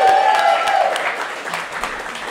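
A live crowd at a podcast recording in a Seattle bank's event space bursts into applause. The clapping is steady and fairly loud at first, then gradually thins out over a couple of seconds.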